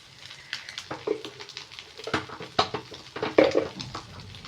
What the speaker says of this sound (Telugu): రెండు దిక్కులా మంచిగా ఫ్రై చేసుకోవాలి